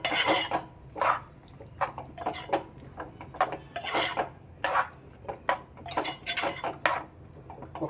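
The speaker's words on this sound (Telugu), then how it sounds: "మూత పెట్టి ఉంచుతామండి." A lid placed on a cooking pot of mixed ingredients in a home kitchen, with a series of metallic clinks, clatters and scrapes in an uneven rhythm, close and fairly loud.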